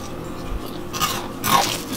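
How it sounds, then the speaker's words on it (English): A couple of sharp, close crunches of teeth biting into thin, crispy fried Jamaican butter fish stand out over a quiet background. "they're super thin and crunchy. You hear that?"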